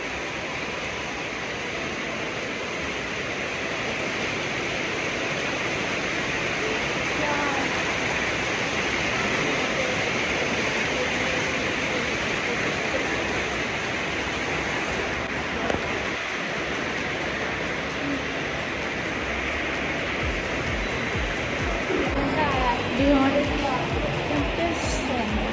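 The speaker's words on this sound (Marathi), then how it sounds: "अरे किती मस्त पाऊस पडतोय. हे बघा आवाज ऐका फक्त मॉलमध्ये." Heavy rain roars as a dense, steady wash of noise heard from inside a mall, constant throughout with faint scattered background activity.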